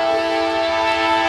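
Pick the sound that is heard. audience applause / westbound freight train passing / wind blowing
westbound freight train passing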